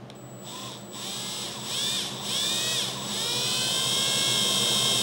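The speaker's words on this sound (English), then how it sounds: "We're just trying to pilot drill these little holes." Small drill bit spinning as it pilot-drills little holes in wood for a Hangar 9 Fun Scale P-47 Thunderbolt model plane's flaperons, a steady high whine rising in pitch and intensity, fairly faint and alone.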